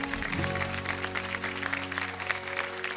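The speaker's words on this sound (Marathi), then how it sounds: "एकदा जोरदार टाळ्या होऊन जाऊ दे." Studio audience applause on a Marathi television game show, a dense burst of clapping that carries on steadily for about three seconds, with sustained musical tones underneath.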